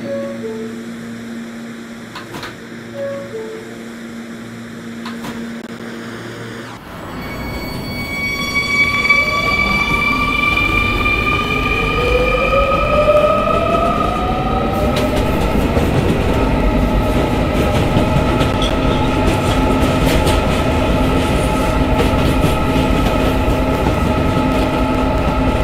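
An R220 subway train on the 7 line in a Roblox game starts off and runs, with rising electric motor whine and steady rolling rumble building after a quiet station start, continuous and close.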